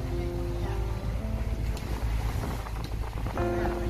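A boat motors among the islands of Nam Du at sea, its engine droning low and steady with wind buffeting the microphone and water rushing past, all close and fairly loud with no voices.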